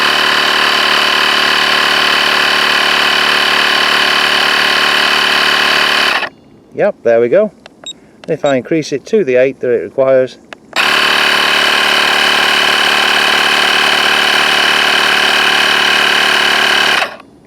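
A Gooloo AP150 PRO tire inflator runs with a loud, steady mechanical drone, stopping for a few seconds while a person speaks, then starting again and running continuously.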